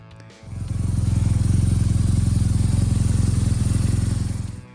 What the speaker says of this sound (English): Number 13. BMW R1200 RT.